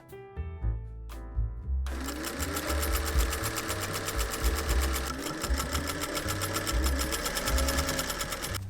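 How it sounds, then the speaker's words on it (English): A sewing machine stitches two lines of waist casings on pajama pants, running steadily and close with a fast, even mechanical rhythm after a few brief starting stitches. "then make 2 lines of stitching to make 2 casings for elastic"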